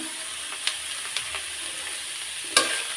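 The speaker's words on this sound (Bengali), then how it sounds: "হলুদের সাথে আমি ভালো মতো মিক্স করে নিচ্ছি মাছগুলা" Fried fish being stirred with turmeric powder, onion and salt in a pan, giving a soft continuous sizzle with a few brief scraping clinks, the loudest near the end.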